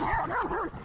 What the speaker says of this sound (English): Super intense German Shepherd, working line.